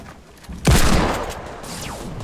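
A single loud gunshot in a video game shootout, sharp and close, followed by a decaying boom and a faint trailing whine.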